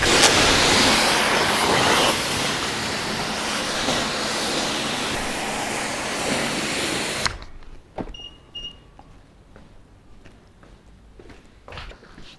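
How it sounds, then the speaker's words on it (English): Water sprays hard across a BMW i5 during a wash, a loud continuous hiss for about seven seconds that then cuts off, leaving faint drips and small knocks. "this is the good time to start to rinse off the W6"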